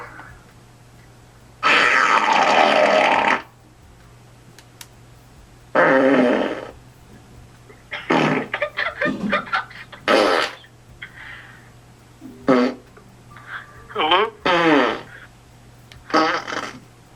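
Fart noises play in loud, separate bursts over a phone line, some long and sputtering and others short, with a low hum underneath and quiet moments between the bursts.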